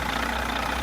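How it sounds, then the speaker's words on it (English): Diesel engine of a Caterpillar D9 dozer with a Cat C18 engine, running at a steady idle with a continuous, dense, rumbling drone and no talk. "This isn't just an engine. It's a diesel snarling powerhouse"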